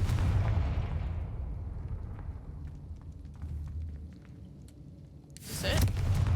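In Hogwarts Legacy, a Confringo spell fires with a deep rumbling blast that fades out over a few seconds, followed by a second sharp, loud burst near the end.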